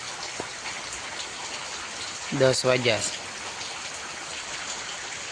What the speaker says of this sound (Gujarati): જો મિત્રો હજી વરસાદ શરૂ છે.